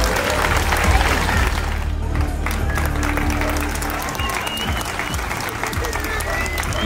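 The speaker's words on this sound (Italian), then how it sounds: "Facciamogli un applauso" An audience at La Damigella del Re 2023 breaks into loud, sustained applause with crowd murmur mixed in, greeting the winner of a horseback contest.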